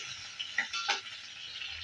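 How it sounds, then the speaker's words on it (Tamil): Onion and green chili sautéing with cumin in a pan, a close, steady sizzle with two brief stirring scrapes in the middle. "இப்போ வதக்கி விட்டுக்கலாம்"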